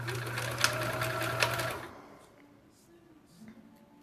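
A sewing machine stitches puppy and kitty ornaments in a steady close whirring run with a couple of sharp clicks, then stops and leaves faint room sounds.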